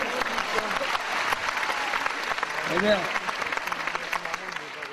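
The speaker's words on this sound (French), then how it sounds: "On peut l'applaudir, bravo mon pote." A theatre audience at a comedy show at the Olympia applauds steadily throughout, a dense wash of clapping with a voice speaking briefly over it.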